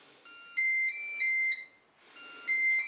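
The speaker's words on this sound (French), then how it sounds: "J'allume mon cookéo." A Cookeo multicooker plays its electronic startup melody on being switched on, a bright series of clear beeping tones in two short phrases with a brief pause between them.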